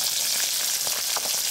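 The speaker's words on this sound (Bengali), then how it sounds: "এয়া মই চেঙেলি মাছ ভাজি আছোঁ" Small chengeli fish frying in a pan in a home kitchen, giving a steady, close crackling sizzle with a few brief louder pops, heard alone with no talking.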